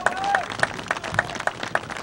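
Crowd applause at an Earlham College football game against Rose-Hulman, a steady run of evenly spaced claps from a nearby audience, with a whistle-like tone early on.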